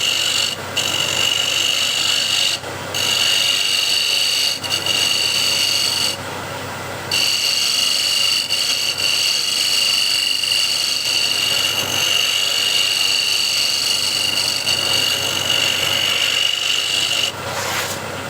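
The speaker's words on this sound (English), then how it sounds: "So I'll tilt this up on edge, use it as a shear scraper" A woodturning scraper tilted on edge shears across the end grain of a spinning workpiece on a lathe, making a loud, continuous rasping scrape with brief breaks as the tool lifts off.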